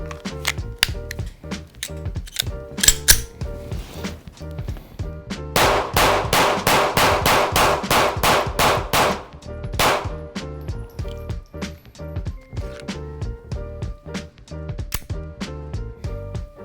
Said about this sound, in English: So I'm gonna shoot this gun today